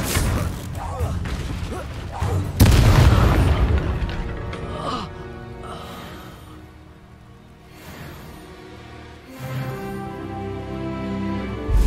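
Spell blasts and explosions go off in Hogwarts Legacy combat. Several booming impacts and crashes sound over a musical background, and a voice calls out between them.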